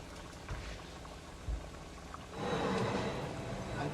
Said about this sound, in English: A wee boil like that, and that's plenty